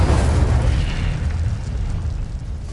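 An Incendio fire spell erupting in Hogwarts Legacy, a loud, close, roaring fiery blast that starts at full force and rumbles on without a break, thinning only slightly as it fades.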